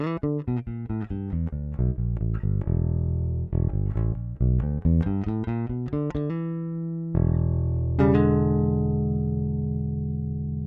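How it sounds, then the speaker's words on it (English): A Dingwall Super P bass strung with Rotosound Billy Sheehan signature strings, recorded direct into an interface, plays a run of clean plucked notes, some short and staccato, then a couple of long sustained notes ringing out alone. "I'm using my Dingwall Super P with Rotosound Billie Sheehan signature strings"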